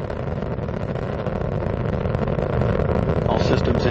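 Space Shuttle Atlantis engines roar during the STS-117 launch in 2007, heard on board as a loud, continuous broadband rumble that swells slightly toward the end.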